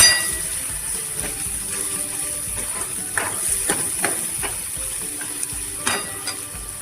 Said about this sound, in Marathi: आपण चांगलं परतून घेऊया.